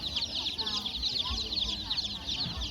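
Chickens cluck continuously at a Thai open-air market in Det Udom, a dense steady stretch of fowl calls close by with busy market bustle beneath.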